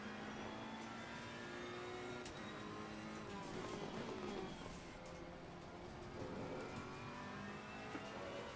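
An Assetto Corsa Competizione GT race car drifting through a bend at Barcelona: a steady engine drone shifts pitch as the car slides, mixed with tyre noise and other cars nearby, continuous with no talk.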